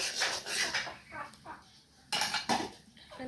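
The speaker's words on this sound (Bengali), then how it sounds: "এখন দিয়ে দিলাম ধনিয়ার গুঁড়ো। মশলাগুলো ভালোভাবে কষিয়ে নেব।" A spoon scrapes and clinks against a cooking pan while coriander powder and spices are stirred, with bursts of metallic scraping in an uneven rhythm, close and moderately loud.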